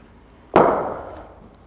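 A cricket bat strikes a ball on a hard training wicket: a single sharp, close crack that rings briefly and fades, set against a quiet background.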